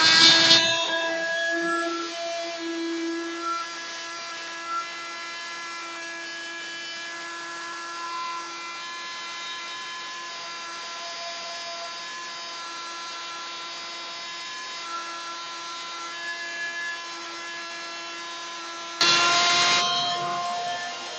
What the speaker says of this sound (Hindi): ये ग्राइंडर में मैं पीस के दिखाऊंगा आपको